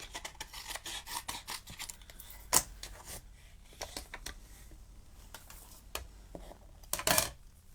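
Scissors snip and trim around a painted poppy paper cutout on a card, giving quiet close rasping cuts in short bursts with a couple of sharper clicks and no voices.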